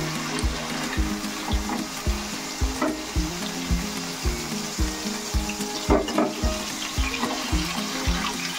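Paneer fries in hot oil with a continuous close sizzle and crackle, overlaid by a regular rhythmic low thumping pattern and a few spatula clinks, with no voices.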